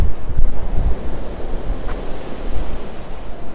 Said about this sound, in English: I'm aware it is pretty blustery up here